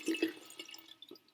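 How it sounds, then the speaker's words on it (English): Water poured for a toy's bath at a children's playgroup, heard as a few small splashes and drips, close and soft, with no talking during it. "Pour the water in."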